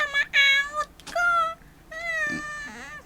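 A cat meows several times close by, drawn-out plaintive calls with short gaps between them, set in an Ilocano drama scene.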